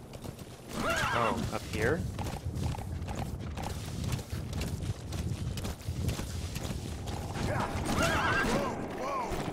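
Horse hooves clip-clop and a horse neighs loudly in Metal Gear Solid V: The Phantom Pain, the whinnies rising over steady hoofbeats while someone talks throughout.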